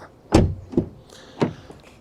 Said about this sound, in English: the feel and the sound of the door